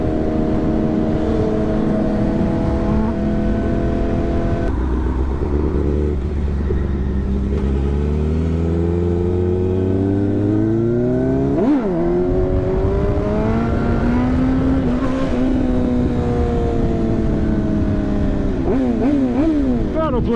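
A sport motorcycle engine revs under repeated throttle blips, its pitch rising and falling in loud, close sweeps throughout with a steady rumble beneath and no talk.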